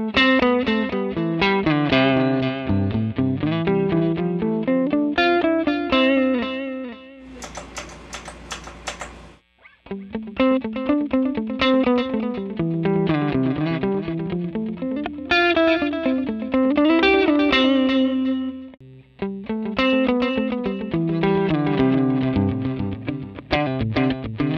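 Electric guitar played through a Line 6 Pod Go multi-effects unit with delay and reverb, a continuous run of distorted chords and notes with short breaks, loud and close, no talk.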